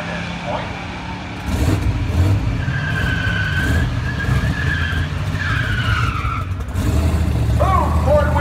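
A 302 V8 four-door Ford Fox body and an Audi drag racing side by side, with engines roaring, tire squeal, and a loud crowd and announcer talking over the din.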